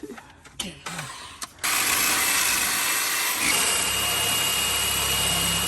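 Loud, steady power drill running into a van's panel to make a hole for a shelf attachment, starting after a few short knocks and handling sounds and then whining on continuously until the end.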